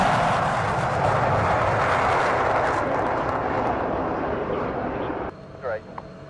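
A Mirage F1 jet in a flight simulator game gives a steady, loud broadband engine roar that holds for about five seconds, then drops away abruptly as voices come through near the end.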